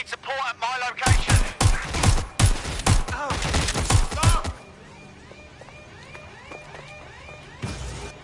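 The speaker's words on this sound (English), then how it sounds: "They're shooting at us." Gunfire in the video game Watch Dogs Legion, rapid close bursts of loud shots for several seconds, then a quieter lull and one more burst.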